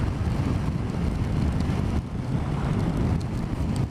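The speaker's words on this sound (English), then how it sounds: "Because the wind's coming straight down the valley." Strong wind blowing down a valley in the rain buffets the microphone in a loud, continuous rumbling roar that stays steady throughout, with no voices.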